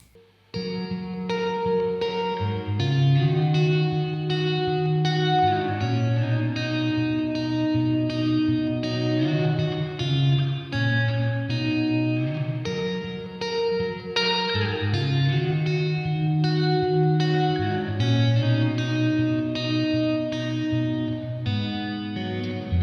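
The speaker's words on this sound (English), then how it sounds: "the digital reverb here, this is based on the Boss RV5, which is an older Boss digital reverb pedal" Guitar chords ring out through a Behringer digital reverb pedal modeled on the older Boss RV5, sustained and washy with a lingering tail, steady and loud without a break across the passage.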